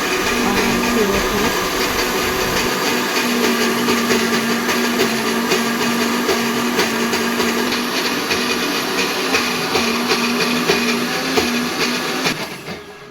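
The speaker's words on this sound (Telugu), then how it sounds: "పల్లీలు, ఆనియన్, ధనియాలు, అల్లుల్లి అండ్ పచ్చి కొబ్బరి, లవంగ, ఇలాచి, దాల్చిన చెక్క వేసి అయితే మంచిగా గ్రైండ్ చేసుకోవాలి" A kitchen mixer grinder blends peanuts, onion, coriander seeds, ginger-garlic, fresh coconut, cloves, cardamom and cinnamon into a paste, a loud steady whir running almost unbroken, then winding down at the end.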